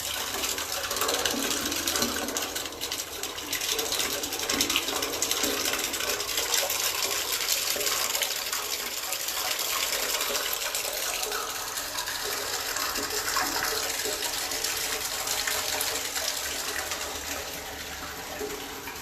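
Water rushes steadily through a water meter test bench, a loud, continuous broadband gush that holds an even level for the whole stretch with no pauses.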